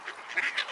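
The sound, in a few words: birds quacking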